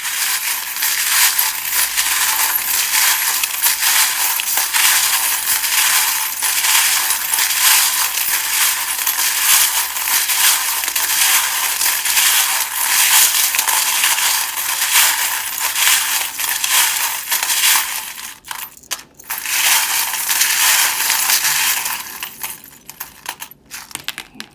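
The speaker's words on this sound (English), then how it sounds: "I always try and remember to say I'm about to shuffle" Tarot cards are shuffled at close range in a long, steady, hissing rustle of sliding and clattering cards that continues almost without a break before ending in a few scattered taps.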